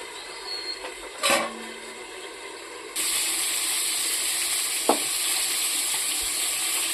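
Food frying in a pan after water is splashed in and the lid goes on: a clatter, then a steady loud hiss of steam and sizzling that continues evenly to the end, with a brief clink midway.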